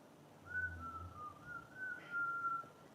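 A woman whistles a wavering, sustained tune, the pitch sliding up and down over a quiet background with a few soft low thumps.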